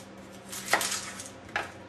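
Vegetables are loosely chopped with a knife on a board in a home kitchen while making chicken stock: two separate, crisp knocks about a second apart, close and clear against quiet room tone.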